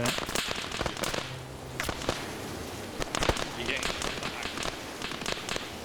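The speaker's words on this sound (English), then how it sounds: "I think he's firing at the guy behind me." Gunfire in the military video game Arma 3, a scattered run of sharp cracking shots with several close, louder reports among fainter distant ones, under a constant background of crackling noise.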